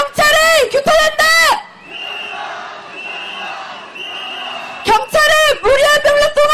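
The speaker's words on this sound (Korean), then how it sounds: "구호 외치겠습니다" A candlelight protest march crowd shouts slogans in loud, rhythmic unison. A sustained roar of cheering fills the middle stretch, then the chanting resumes at full volume.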